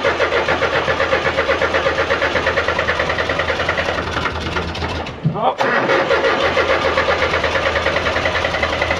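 An old diesel tractor engine cranks and catches on a cold start after years unused, running in a steady rough chugging rhythm, with a brief stumble midway before settling back into a loud clattering idle.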